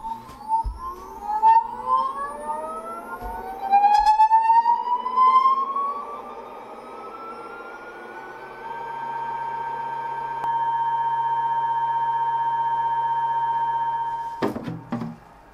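Creality UW-01 resin wash station washing a printed resin model: a motorised whine that rises in pitch as it spins up, then settles into a steady hum before cutting off, with some handling knocks.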